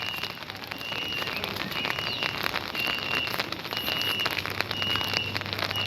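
Soft, steady rain patters and crackles on a surface, with a faint high drone running underneath.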